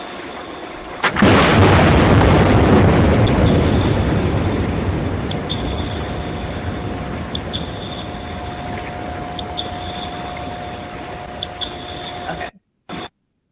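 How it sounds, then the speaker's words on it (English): An underwater seismic air gun blast: one sharp, very loud burst followed by a long, rumbling, reverberant decay lasting about ten seconds over a thin steady hum, then a sudden cutoff. "So I'm just going to show you clip of what an air gun sounds like."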